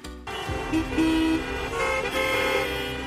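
Car horns blare in a stalled traffic jam, with one long sustained honk joined by several overlapping toots, all close and loud over a rumbling road background.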